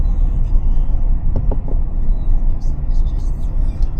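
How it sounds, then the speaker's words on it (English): A camper van drives along a sandy beach, its low engine and road rumble loud and steady up close, with faint voices in the background. "I am enjoying this driving along the beach thing though"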